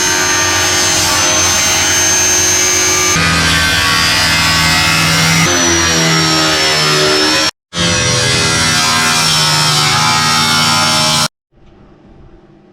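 A power tool grinds steadily through metal, cutting off the bottom of a Mercedes-Benz Unimog camper box, loud and close with shifting whining tones, a brief cut-out, then stopping near the end.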